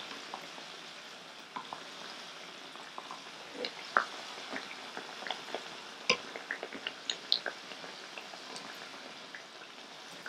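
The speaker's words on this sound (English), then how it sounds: "Fry until golden brown." Bacalaitos, Puerto Rican salt-cod fritters, fry in hot oil with a steady soft sizzle, scattered sharp pops and crackles rising throughout, close and with no talking.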